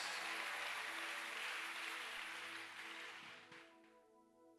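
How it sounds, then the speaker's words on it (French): Applause from a church congregation for a pastor, a broad wash of clapping that fills the space and slowly fades toward the end, with no voices over it. "Nous l'acclamons très fort alors que nous reprenons nos places."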